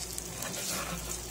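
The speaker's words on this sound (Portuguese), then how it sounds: "Agora deixa eu dar mais uma fritadinha nessa cebola." Onion fries with bacon and bay leaf in a clay pot on a home stove, giving a steady, close, dense sizzle with faint crackles throughout.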